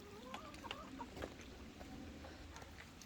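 A rooster clucks in a series of short, nearby calls, fairly quiet over light background noise.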